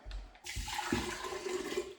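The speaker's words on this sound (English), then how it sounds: "let's get a little bit of cold water in there" Cold water pours and splashes into a summer sausage meat mixture, a steady rushing, gurgling stream that carries on through nearly the whole stretch after a brief start.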